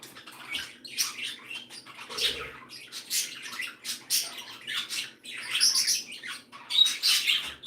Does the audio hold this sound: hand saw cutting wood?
no